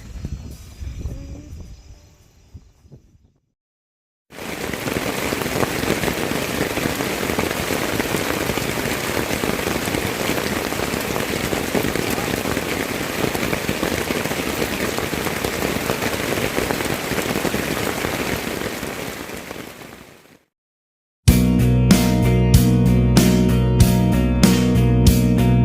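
Steady rain falling at a mountain camp at night on Gunung Penanggungan, a dense continuous patter that holds evenly for about sixteen seconds, bracketed by quieter sounds before and a different sound after.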